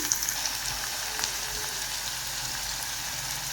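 Vegetables frying in hot oil on a home stove, a steady soft hiss and crackle throughout at moderate distance, no talking.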